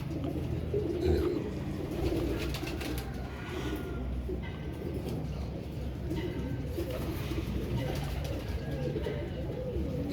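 Pigeons coo repeatedly nearby in a bird enclosure, soft low throaty calls with a few wing flutters and light background noise, no talking.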